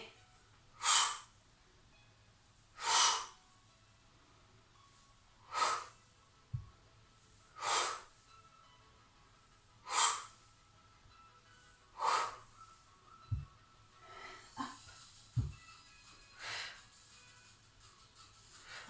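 Forceful exhalations during an abdominal strengthening exercise, about nine sharp breaths out at a steady pace of roughly two seconds apart, close and fairly loud against a quiet room, with a few soft thumps in between.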